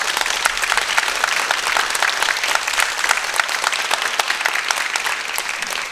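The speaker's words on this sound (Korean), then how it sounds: "다시 한번 힘찬 박수." Dense, steady audience applause for a Seoul youth orchestra after a Mozart performance, many hands clapping loudly and evenly throughout with no talk over it.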